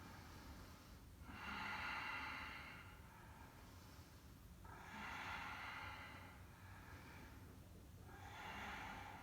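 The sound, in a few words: deep breathing held in a yoga pose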